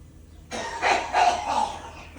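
A man coughs in a garage workspace, a few harsh, raspy bursts that start abruptly after a quiet moment, close and fairly loud.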